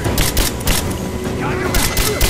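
Enemy gunfire crackles in Rise of the Tomb Raider, set in a mine: several sharp bursts of shots come in quick clusters over an ongoing rumble, with raised voices calling out among them.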